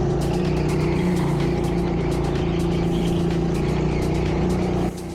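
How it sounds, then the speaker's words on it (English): A go-kart engine drones steadily and loudly at high revs on an indoor karting track, with faint intermittent squeaks from the engine and clicks over the hum before it drops slightly at the end. "this engine is squeaking a lot, and I don't mean the tyres, genuinely the engine was squeaking"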